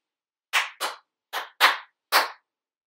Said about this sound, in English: Let's see if you can clap this rhythm back.